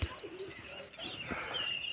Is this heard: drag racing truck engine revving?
no